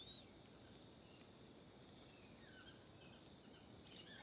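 Crickets and cicadas chirp steadily at night in a soft, continuous high-pitched drone, with no voices over it.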